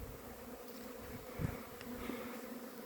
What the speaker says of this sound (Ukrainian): Теж бджола працює просто дуже інтенсивно.